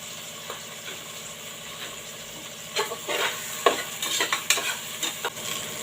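Onions sauté with rock salt in a pan for vegetable biryani, a low sizzle at first, then louder bursts of spoon scraping and clatter as they are stirred.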